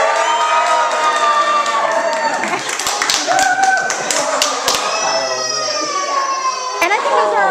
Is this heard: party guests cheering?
yes